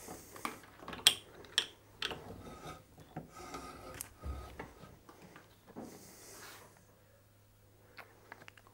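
A ratchet pipe threader cuts threads on low carbon steel pipe, with close, irregular ratcheting clicks and rasping metal scrapes in short bursts, fading into quieter scraping and occasional clicks.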